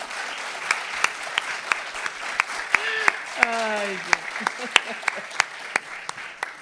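Audience applause at an evening academic event, steady clapping filling the room with a few louder individual claps standing out, while a brief voice and a whistle-like tone rise faintly over it.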